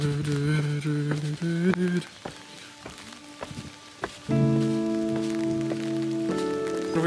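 Rain falling through a whole day in Hobbiton, New Zealand, a soft steady patter heard under sustained tonal sounds, with scattered drips and a few footsteps.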